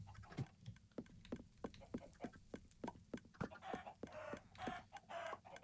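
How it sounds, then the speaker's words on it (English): Chickens in a lava chicken farm in the Minecraft video game give repeated short, clipped clucks in a quick, uneven rhythm, faint and alone with no talk. "you can hear some chicken burning. That's because that's actually a chicken farm."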